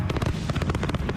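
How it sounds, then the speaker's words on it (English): Fourth of July fireworks in Arizona crackle in a dense, rapid burst of pops and bangs, loud and close, with no voices. "Fireworks inferno."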